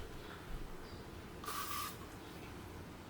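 A spray can is used for cleaning in an apartment being packed for a move, giving one short, sharp hiss of about half a second against a quiet room.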